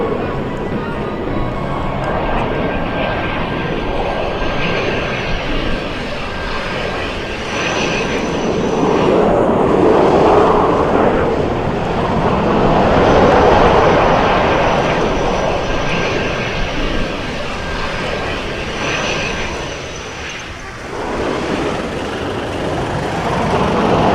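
McDonnell Douglas Phantom jet at full throttle, a loud sustained engine roar that swells and fades over about twenty seconds with a steady broadband rumble throughout.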